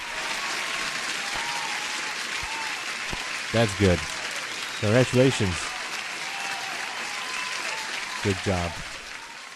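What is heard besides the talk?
applause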